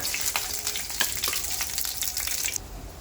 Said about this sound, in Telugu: ఆయిల్ కాగిన తర్వాత పచ్చిమిరపకాయలు వేస్తున్నాను.